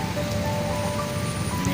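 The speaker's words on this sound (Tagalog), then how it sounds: "Walang tigil ang ulan dito." Steady rain falling outdoors in Morong, Bataan, a dense constant patter filling the scene with no pauses, moderately loud and without voices.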